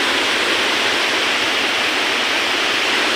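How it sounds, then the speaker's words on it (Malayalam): A waterfall on a road trip toward Malakkappara roars with dense, steady broadband rushing water, loud, close and unbroken, with no voices. "ഒരു അടിപൊളി വെള്ളച്ചാട്ടം"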